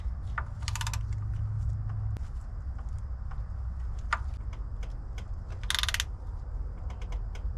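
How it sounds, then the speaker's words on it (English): A torque wrench is tightened on transmission cover bolts on a truck, with several separate, sharp metallic clicks and ratcheting spread over a steady low background hum in a garage. "This may be only the second time you've seen a torque wrench on this channel."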